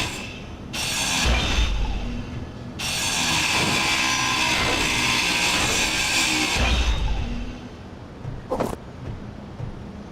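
Material being ground down in a survival game: two long stretches of harsh, steady mechanical grinding with a bright whirring edge, loud and close. Short knocks and clunks sit between and after them.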